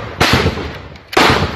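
Gunfire crackles out during an attack on a police station, two sharp loud bursts about a second apart over a steady noisy background.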